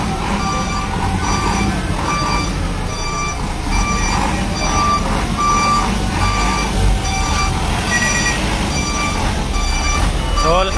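Steady reversing beeps from a fire truck at a fire in Baseco Port Area, Manila, repeat at an even rhythm over rumbling engine and street noise, with faint voices in the background.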